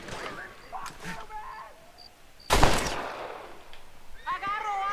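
A single loud gunshot bursts out mid-clip in the Western video game Red Dead Redemption, with lingering echo, amid game sounds and a voice.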